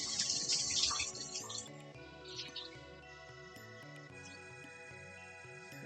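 Tap water runs and splashes while a half lemon is rinsed in a kitchen sink during chef's salad prep, a steady hiss near the start that eases into quieter trickling under soft background music.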